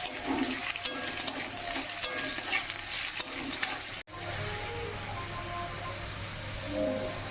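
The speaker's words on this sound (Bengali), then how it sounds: "এবারে ওই তেলের মধ্যে দিয়ে দেবো একটা মাঝারি সাইজের আলু" Continuous crackling sizzle of small-cut potatoes frying in hot oil, with occasional stirring scrapes; a brief cut midway, then the sizzling resumes steadily.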